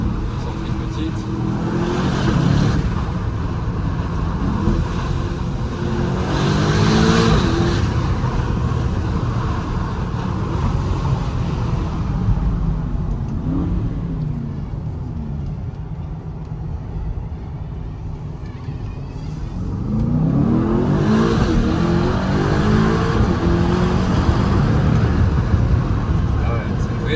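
An Aston Martin DBX 707 SUV accelerating hard, its engine roaring and rising in pitch in surges, heard from the cabin while someone talks over it, with a quieter cruising stretch between pulls.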